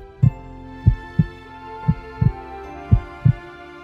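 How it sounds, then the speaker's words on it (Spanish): Heartbeat-like thumps, seven or so deep, muffled beats in a slightly uneven rhythm, close and clear over a faint hum, with no talk. "Te va a recordar cómo es el latido de tu corazón."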